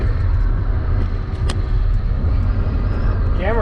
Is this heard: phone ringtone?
no